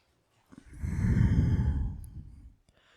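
A single deep, slow exhalation during a vinyasa yoga flow, rising and fading over about two seconds, close and soft against a quiet room.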